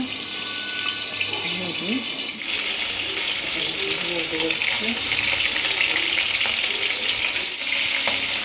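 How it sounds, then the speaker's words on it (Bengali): Fish fries in hot oil on a gas stove turned to high flame, giving a loud, steady hiss and sizzle throughout, with a few brief voices faintly underneath. "মাছ ভাজা হচ্ছে।"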